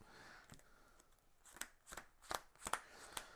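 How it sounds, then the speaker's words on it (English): Playing cards for the Marvel Champions card game being shuffled by hand, a run of crisp riffling bursts that grow louder and more frequent toward the end, close and alone with no talking. "We'll do some shuffling."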